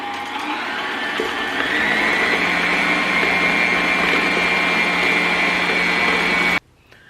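An electric stand mixer runs at full speed, beating butter, cream cheese and sugar for a plain pound cake. It makes a steady, high motor whine that climbs in pitch early on, holds loud and constant, then cuts off abruptly.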